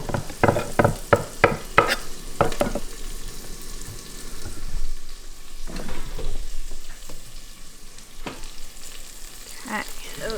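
Parmesan-coated food cooks in an air fryer with a steady sizzling hiss. Sharp clicks and knocks are scattered through it, mostly early on. No speech.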